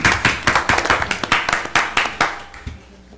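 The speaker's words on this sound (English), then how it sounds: "Round of applause." A brief round of applause at a city commission meeting in Piqua, Ohio: a small group clapping close by in quick uneven bursts that thin out and stop after about three seconds.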